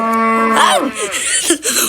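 A cow in a deer simulator video game gives a loud, drawn-out moo that bends in pitch, followed by a few shorter lowing calls, up close and clear.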